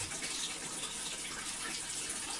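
A hot water tap runs at home while a Vokera Maxim boiler is switched off for a low-pressure fix, giving a faint, even hiss of flowing water with no voices.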